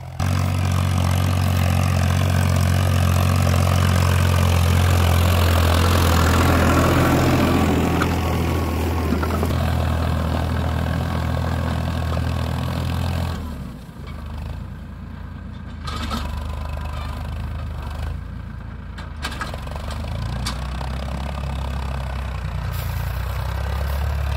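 A Farmtrac 60 Powermaxx tractor engine runs steadily with a loud low drone, the sound thinning and dropping in level about halfway through before continuing at a lower hum.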